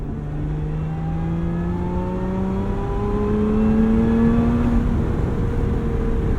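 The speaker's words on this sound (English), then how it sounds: "And the supercharger whine mingles with that V6 note." Lotus Emira with a manual gearbox and supercharged V6 engine, heard from inside the cabin as a steady, rising engine note with a thin supercharger whine climbing in pitch over several seconds, moderately loud and with no talking.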